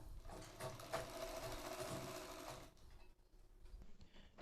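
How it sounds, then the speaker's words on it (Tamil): Sewing machine stitching a folded cloth strip for a palsun patti, a steady whirring run that stops partway through, leaving quieter room noise afterwards. "இப்போ நான் வந்து தையல் போட்டுக்கிறேன்."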